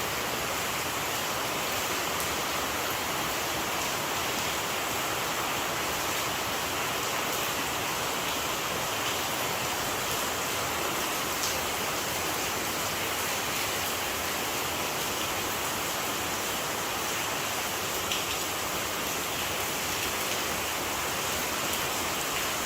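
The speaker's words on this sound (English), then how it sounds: "Don't stop raining." Heavy rain pouring down in Jamaica, a dense, continuous hiss of falling water that stays steady and even throughout, with no voices.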